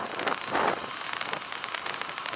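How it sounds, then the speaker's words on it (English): Steady wind buffeting outdoors along the Mojave Road, a broad rushing noise with gusty surges and crackly bursts, continuous throughout with no voices. "It's pretty windy today, guys, so we get a lot of wind."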